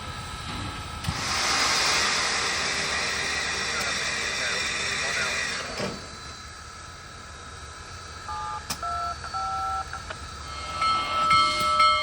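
Union Pacific Big Boy, the giant steam locomotive of about a million pounds of steel, starts up on tracks in Ohio and creeps slowly forward, with a loud, sustained steam hiss fading into quieter mechanical rumble and thin tones, heard from nearby.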